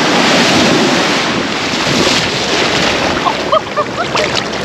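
Loud, steady wash of surf on a beach with heavy wind buffeting the microphone throughout.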